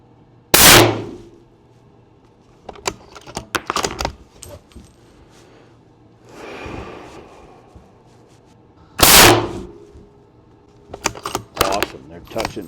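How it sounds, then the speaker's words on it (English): Two loud, sharp long range hunting rifle shots firing 180 grain bullets, several seconds apart, each followed by metallic clicks and clatter of bolt cycling and handling. "I'm gonna shoot the top diamond, starting on the far left and working right"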